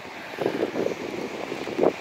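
Gusty wind on the Isle of Lewis and Harris, Scotland, buffets the microphone in uneven, rumbling bursts, with a stronger gust near the end; no voices.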